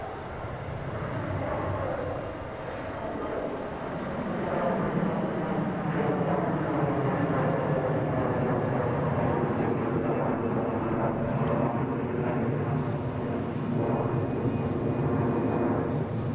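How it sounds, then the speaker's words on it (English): A Cessna Citation Longitude business jet arrives at Boston Logan, its engine roar a steady, moderately distant rumble that swells slightly partway through and holds. "Cessna citation longitude coming from Teterboro."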